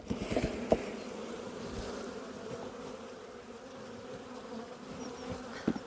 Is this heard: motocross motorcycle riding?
no